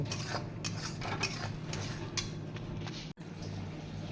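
Sour yogurt stirred into spices in a pan for a kaju posto paneer dish, a spoon scraping and clinking against the pan in a quick, uneven rhythm, close and fairly loud, with a short break near the end.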